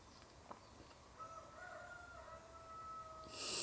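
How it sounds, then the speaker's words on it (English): A backyard rooster kept with hens crows loudly outdoors in a single drawn-out call that rises and then holds steady, heard from some distance over steady background noise. No voices. "My rooster is being loud outside."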